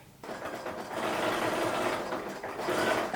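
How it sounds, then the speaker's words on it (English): A sewing machine stitches steadily through a satin-lined beanie near its pom-pom, a close, continuous mechanical whir that rises slightly in speed toward the end. "I'm stitching as close to that pom-pom as I can"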